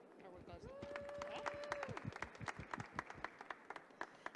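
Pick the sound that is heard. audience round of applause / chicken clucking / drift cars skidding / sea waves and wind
audience round of applause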